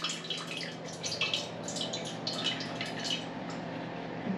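Warm water trickles and drips into a bowl on a kitchen scale, a close, steady splashing pour with no voices over it.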